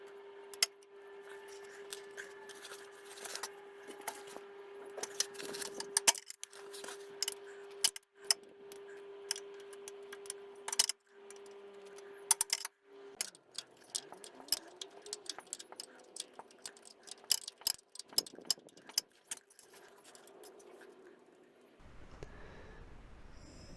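A 1/2-inch ring spanner works a screw on a car engine, a timing-belt job on an E7J635 engine, giving scattered close metallic clicks, ticks and taps over a faint steady hum that stops near the end.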